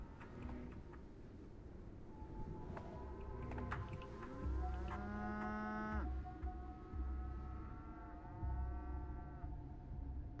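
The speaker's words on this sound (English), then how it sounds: "Hey, there's a cow." A cow in the video game Pathologic 3 lets out long, drawn-out moos, a low bellowing call rising and sliding in pitch, heard moderately close over a quiet ambient background with no talking.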